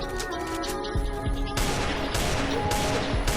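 A gun fires repeatedly in the Free Fire video game, a rapid string of loud, close shots with a dense, rattling rhythm over a busy game background.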